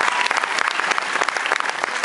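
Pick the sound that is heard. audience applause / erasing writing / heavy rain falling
audience applause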